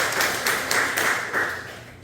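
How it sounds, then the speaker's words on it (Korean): A church congregation at a Sunday service claps together in a short, even rhythm of repeated beats, fairly close and moderately loud, tapering off at the end. "우리 소망석 박수 한번 해주시죠"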